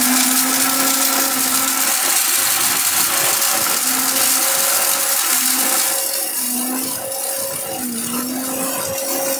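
A Steel Bush blender whirs continuously, grinding cinnamon and cardamom to powder, with a loud, steady motor drone whose pitch dips slightly near the end and no voices.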